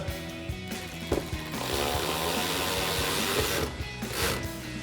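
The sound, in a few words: driving a T15 screw into fender flare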